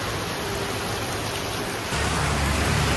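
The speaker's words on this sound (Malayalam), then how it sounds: "കോഴിക്കോട് ഭാഗത്തൊക്കെ നല്ല മഴ കേട്ടോ." Heavy rain falls steadily, a dense, even wash of noise with no breaks that grows slightly louder and fuller in the last second.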